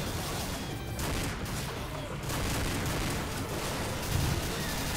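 Sustained gunfire in Left 4 Dead aimed at a Smoker, a dense, continuous crackle of shots with a heavy low rumble and a slightly louder burst near the end, with speech mixed into the din.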